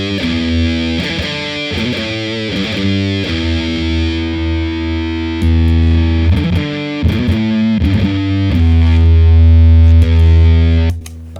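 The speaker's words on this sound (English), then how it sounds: "You get that really nice, low, clippy fuzz sound." A deep, overdriven bass guitar with a gritty, clipped fuzz tone, playing a series of low notes and swelling louder toward the end.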